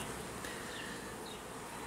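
Steady dense buzzing of honeybees at a hive, a continuous even drone with no pauses, close and moderately loud, no voices.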